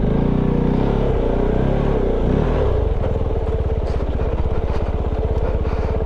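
Kove 450 Rally adventure motorcycle riding a rough jeep trail on Mt. Baldy, its single-cylinder engine close and loud, settling from a revving idle into a steady, rapid thumping pulse as it moves off.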